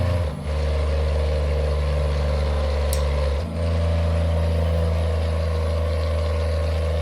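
A Kenworth truck in a driving game: a loud, steady engine drone with a sharp air-brake hiss near the start and another brief release about three seconds later.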